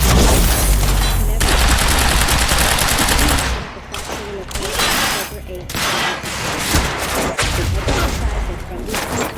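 Rapid sustained gunfire in the shooter game Quantum Break, dense automatic bursts filling the whole stretch, loud and close, with a brief lull before the shooting resumes amid game music and combat noise.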